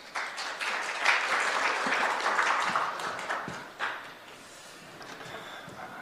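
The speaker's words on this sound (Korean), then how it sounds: "큰 박수로 맞아주시기 바랍니다." A seminar audience in Seoul gives moderate applause to welcome the next presenter. The clapping is steady for a few seconds, then thins out and fades to a quiet room.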